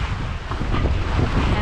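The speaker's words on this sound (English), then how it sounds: "The engines are turned off and we are sailing." An aluminium catamaran sailing under screecher and mainsail with its engines switched off: constant wind rushing across the microphone with a broad hiss and low rumble, along with faint water wash and no voices.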